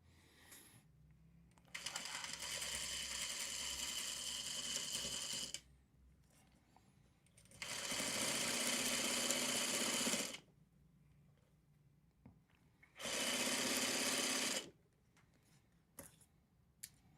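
A sewing machine stitches a scrap quilt in three bursts of rapid, close whirring, each a few seconds long, separated by quiet pauses with small clicks.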